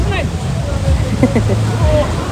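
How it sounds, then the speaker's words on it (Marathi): Big sea waves crash on a Goa beach, a loud, continuous roar of surf with a voice talking over it throughout. "बापरे एवढ्या लाटा बघा ना"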